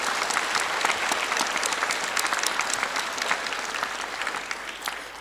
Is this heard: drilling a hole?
no